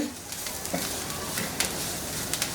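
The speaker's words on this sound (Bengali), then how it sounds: "দিয়ে এইটাকে একটু নাড়াচাড়া করে গোলমরিচটা একটু ভেজে নিই" Ground black pepper frying in a pan gives a soft, steady sizzle with light scraping from stirring, fairly close and even throughout, while a person talks quietly over it.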